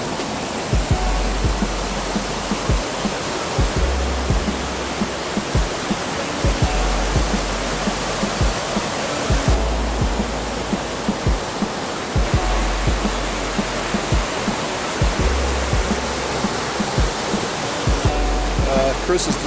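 A river creek in Oregon rushes steadily, a broad close wash of flowing water that never lets up, with faint talk and occasional low bumps underneath.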